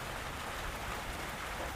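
Rain pours steadily onto an open terrace in a small town, a dense, even hiss with no breaks and no voices.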